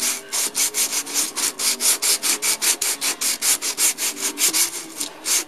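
A Fiat 850 intake manifold is lapped on sandpaper wetted with WD-40, giving a close, loud, rhythmic rasping of quick back-and-forth strokes, about four per second, that runs steadily throughout.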